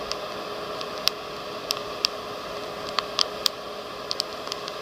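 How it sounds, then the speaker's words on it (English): Coffee beans reaching first crack in a roaster: sharp, sparse pops and snaps scattered irregularly over a steady whooshing hiss of the machine. "First crack's going along nice."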